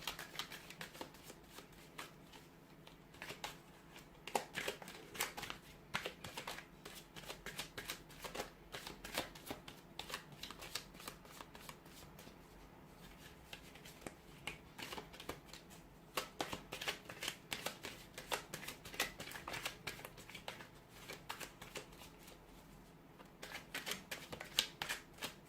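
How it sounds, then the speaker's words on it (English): Tarot cards are shuffled by hand, giving a soft, busy riffle of quick papery flicks and slaps that goes on and on, close and fairly quiet. "give the cards a shuffle"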